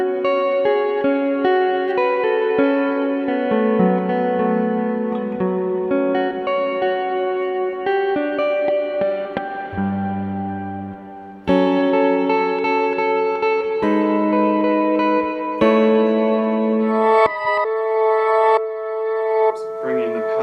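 Electric guitar run through an octave effects pedal with added reverb, sustained chords and notes ringing loudly and steadily for the whole stretch, with a lower octave layer briefly appearing, no talking.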